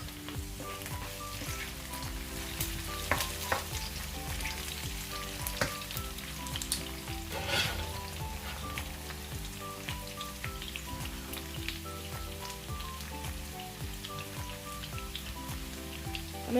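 Onions and garlic fry in a pan for a chicken pasta bake, giving a steady, close sizzle throughout with music-like tonal layers underneath and a few sharper crackles along the way.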